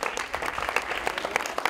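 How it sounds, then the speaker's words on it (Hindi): Audience applause at a school gathering at Acharyakulam in Haridwar, a dense steady patter of many hands clapping at an even level through the whole short stretch, with no clear voices above it. "इसके लिए ताली बजाओ"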